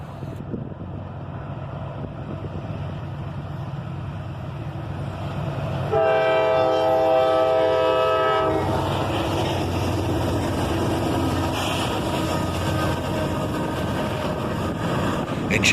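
A CSX Dash 8 locomotive hauls a train past, with a steady rumbling roar and a loud multi-tone horn blast sounding for a few seconds midway as the engine draws nearer.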